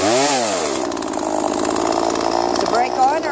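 A chainsaw revs up sharply and then roars steadily up close, with its engine pitch rising and falling as women learn to handle it, while voices talk over the engine.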